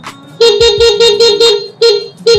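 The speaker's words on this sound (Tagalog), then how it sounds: "testingin na lang po natin sa busina" A 2023 Honda Beat scooter horn beeps in a rapid series of short, loud honks during a pre-delivery inspection, then two more after a brief pause.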